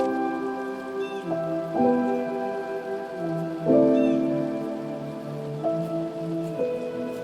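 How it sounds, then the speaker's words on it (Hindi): Steady rain falls during a trip on a mountain road between Naran and Jhalkhad, a constant soft patter mixed with a droning engine whose pitch shifts every few seconds. "ये जो बारिश हो रही ना ये काम खराब है।"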